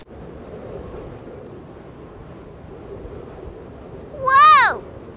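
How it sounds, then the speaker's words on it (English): Steady wind roars and buffets the microphone throughout, with a brief loud exclamation near the end. "Oh, it's really windy"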